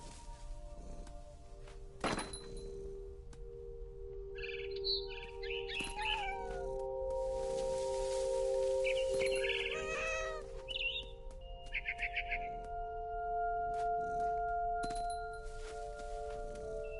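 A cat meows in the video game What Remains of Edith Finch, with several distinct meows scattered over a steady ambient hum and an occasional soft thud.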